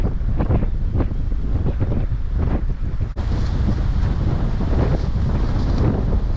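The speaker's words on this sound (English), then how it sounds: "Look at the sand blowing in the wind there, and the waves crashing there." Ocean waves crash and rush onto a wide white-sand beach at Britannia Bay near St Helena Bay, South Africa, with loud, steady wind buffeting the microphone throughout and repeated surges of surf.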